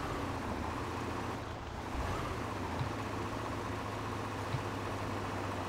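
Steady low engine drone of a truck driving in the Spintires off-road video game, a continuous even rumble with no talk over it.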